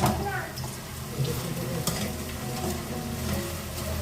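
Okra pieces frying in oil, added a few at a time, give a continuous close sizzle with stirring and occasional clinks of utensils, no talking.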